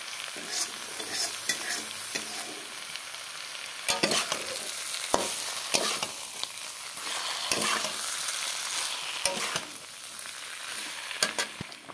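Spices frying in hot oil with ridge gourd, a steady close sizzle broken by repeated sharp scrapes and clinks of a spoon stirring in the pan, no talking.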